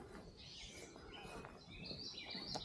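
Several birds chirp and tweet at a wooded state park campground in northeastern Illinois, with repeated high, faint calls scattered over steady outdoor background noise.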